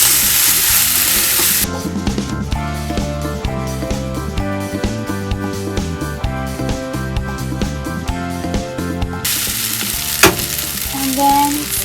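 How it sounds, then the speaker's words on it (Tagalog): Kimchi fried rice sizzles loudly in a pan with kimchi juice, a steady frying hiss broken by rhythmic scrapes and clacks of stirring, with louder open sizzling at the start and end. "keep mixing till the rice are coated with the kimchi juice"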